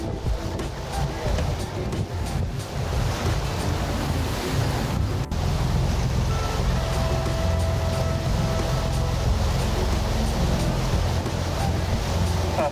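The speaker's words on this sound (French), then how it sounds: "attention les vagues" Sea waves rolling and washing close by at Bonifacio, Corsica, a continuous loud surf roar mixed with some wind, steady from start to finish.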